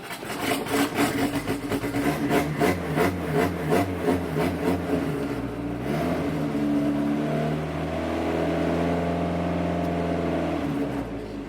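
Turbo Honda Civic engine idling while warming up, a steady, close rumble with a rhythmic pulsing throb early on that smooths into an even, slightly higher idle before easing down near the end. No talking.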